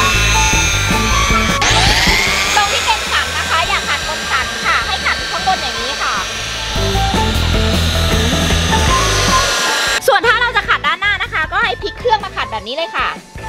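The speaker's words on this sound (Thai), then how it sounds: "อย่าขัดบนสันค่ะให้ขัดข้างบนอย่างนี้ค่ะ" Handheld car polishing machine buffing car paint, a steady loud motor whine running throughout with someone talking over it, the tone shifting near the end.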